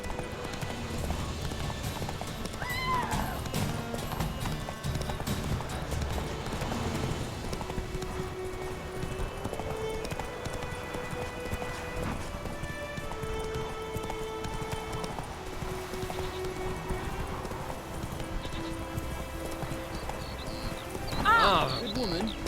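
Horse hooves clip-clop steadily during riding in the video game Witcher 3, set under game music and ambience, with a brief louder spike near the end.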